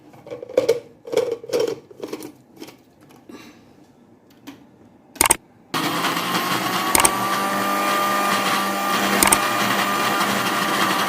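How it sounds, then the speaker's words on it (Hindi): Kitchen blender whirring through chili flakes, crushed cumin and salt for a red shawarma sauce: a few short knocks, then a steady, loud motor drone for several seconds, briefly interrupted by sharp clicks. "अब हमने इसको कर लेना है ब्लेंड।"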